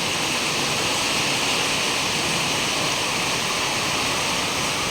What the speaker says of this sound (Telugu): చూడండి ఇంత భారీగా పడుతున్నాయంటే వర్షాలు